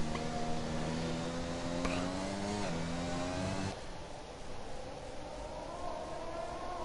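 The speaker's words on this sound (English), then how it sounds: "that's a safety car in the pits, and you're already accelerating" A Formula-style race car in an online racing league game at Abu Dhabi accelerates out of the pits, its engine whine rising in pitch through several upshifts before fading, with faint talk underneath.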